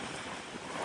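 Strong wind and rough sea waves batter a giant cruise ship, making a steady broadband roar of rushing air and surf with no voices.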